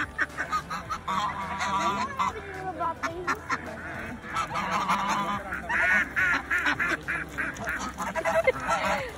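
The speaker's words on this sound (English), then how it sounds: "My God, that goose." A goose honks repeatedly at close range by a dam in Khorfakkan while being fed, loud brassy calls mixed with other fowl and ducks, with people talking nearby.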